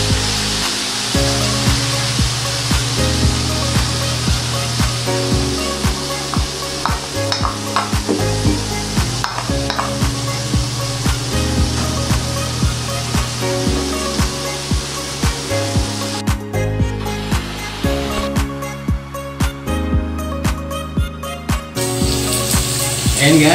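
Three eggs sizzling and frying in a pan with sautéed bitter gourd (ampalaya) and tomatoes, a steady loud crackle with intermittent stirring scrapes throughout.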